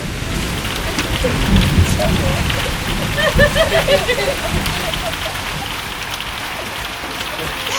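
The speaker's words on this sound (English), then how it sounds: "So much hail!" Storm sound effect of hail and rain pelting down with thunder rumbling, a steady dense patter holding loud across the whole stretch.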